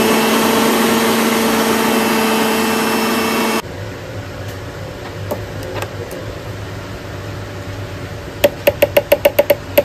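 An electric blender grinds a paste of poppy seeds, almonds, raisins, tomato and green chili, a loud steady whir for a few seconds that cuts off and gives way to quieter kitchen sounds and a burst of rapid knocks near the end.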